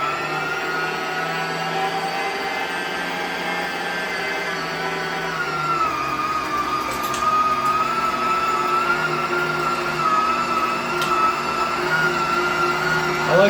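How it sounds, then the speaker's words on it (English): A meat grinder running as pork and venison are fed through for boerewors sausage: a steady whining motor drone with a tonal hum that shifts slightly in pitch under load, close and continuous. "We're going to turn on the grinder, feed through some of the pork, some of the venison"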